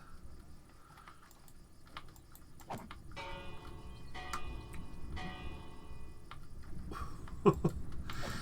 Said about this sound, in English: Let's check out the Haunted Bell.